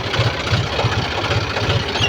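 A tractor engine runs steadily among seven-foot-tall maize plants in a field, a low continuous idling rumble with a rough, slightly knocking throb, close and fairly loud, with no voices.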